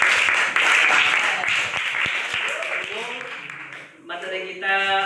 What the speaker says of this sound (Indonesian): Kasih aplaus untuk kita semuanya.